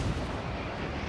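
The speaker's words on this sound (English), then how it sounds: "Our anti-aircraft is beginning to open up and shoot down some aircraft" Anti-aircraft guns aboard the cruiser HMS Fiji fire in World of Warships, a dense, rumbling burst of booming gunfire with no voice over it.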